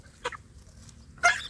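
Two short, quiet clucks from Indonesian village chickens with chicks, about a second apart, against near silence in a net-fenced run.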